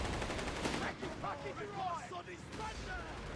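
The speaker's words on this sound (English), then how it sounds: "2-pounder taking shots there." A British 2-pounder anti-tank gun fires in a Company of Heroes 3 battle, a short sharp report amid busy battlefield noise, with a commentator talking over it.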